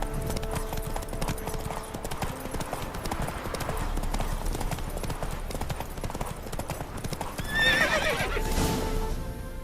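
Roach the horse galloping in The Witcher 3, with steady rapid hoofbeats throughout and a whinny near the end.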